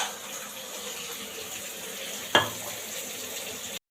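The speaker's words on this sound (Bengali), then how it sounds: "এদিকে এই যে কুঁদরু ভাজা, ওদিকে বসেছে মাশরুম" Ivy gourd (kundru) frying in a pan gives a steady, close sizzle with a single sharp clink or stir about two-thirds through. No one speaks.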